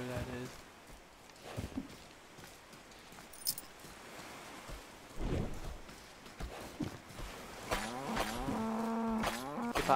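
Several cows in a video game low and moo, scattered calls building to a loud, drawn-out moo near the end, with faint footsteps and jangling between.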